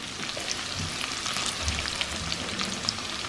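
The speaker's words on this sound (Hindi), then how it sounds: "थोड़ा सा इनको भूनते हैं, उसके बाद डालेंगे मटर और आलू।" Garlic and other ingredients sizzle steadily in a pan, about to be joined by peas and potatoes for aloo matar, with a dense continuous crackle and occasional stirring scrapes throughout.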